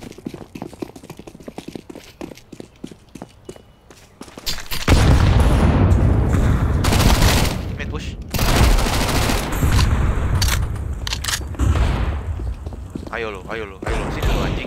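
Video game gunfire crackles through a match, starting as sparse, spaced shots and then bursting into sustained loud automatic volleys and booms, with players talking underneath.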